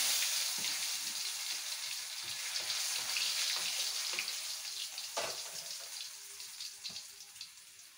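Oil sizzles and crackles steadily in a pan in a small home kitchen, a dense close hiss with occasional sharper pops.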